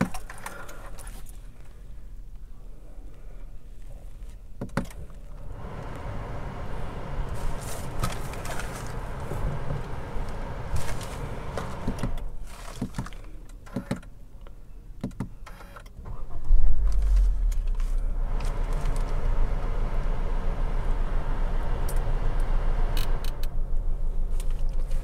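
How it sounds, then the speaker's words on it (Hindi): A 2020 Honda City sedan being switched on: interior clicks and handling noises, then the engine starting at about two-thirds of the way in and settling into a steady low idle. "तो गाड़ी एक बार मैं ऑन कर"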